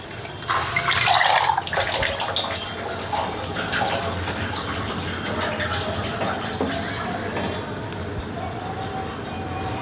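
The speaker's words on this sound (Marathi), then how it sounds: "थोडं आपण अजून पाणी टाकूया." Water splashes into a pot of curry in a short, loud pour, followed by quieter sloshing and simmering in a kitchen, with a person talking over it.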